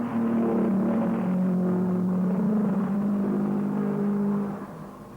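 1953 Formula 1 cars at the Swiss Grand Prix, a loud continuous engine roar with a sustained droning note that holds steady, then fades slightly toward the end as the cars pull away.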